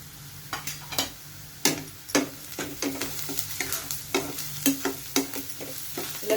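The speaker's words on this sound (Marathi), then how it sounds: "कांदा छान आपण परतून घेऊया" Onion sautéing in a pan with asafoetida and turmeric for a quick dry okra dish: steady sizzle with irregular scrapes and stirring knocks of a utensil against the pan, close up, with no talk.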